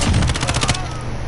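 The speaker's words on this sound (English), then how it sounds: "Whoa! Under fire!" Rapid gunfire bursts from a Diamond Dynasty video game, a loud fast volley of shots rattling for under a second, then a dense lingering echo and rumble.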